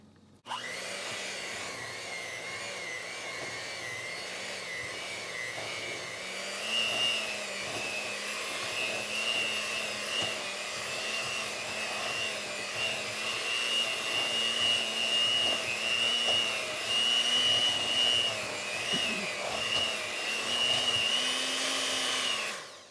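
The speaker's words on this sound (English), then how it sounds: "I'm gonna go ahead and mix it" An electric mixer whirs steadily for about twenty-three seconds, mixing low-carb hamburger bun dough; the motor pitch rises slightly partway through and stays loud and close, with no talking.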